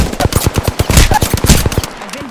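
Rapid automatic gunfire in the Apex Legends video game, a loud close burst of evenly spaced shots at a quick steady rhythm for about two seconds, then stopping.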